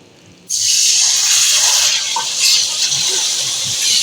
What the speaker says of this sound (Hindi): अब हम इसमें डालेंगे ये शीरा।